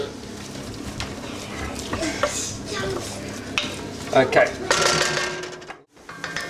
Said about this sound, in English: This is the onions. They've been frying for about 5 to 10 minutes.